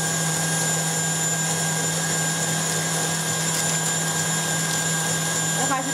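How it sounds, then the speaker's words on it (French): An electric mixer whisks egg whites and sugar at a higher speed, giving a constant loud motor whine with a steady hum that holds evenly for the whole stretch. "Et on augmente la puissance du batteur."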